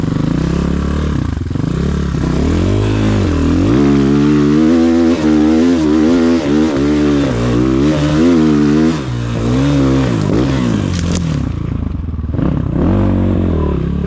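A Rottor Bronx 300 motorcycle pulls in first gear up a slippery slope covered in dusty soil and leaves. The engine drones loud and close, its pitch rising and falling with the throttle, and it drops away near the end.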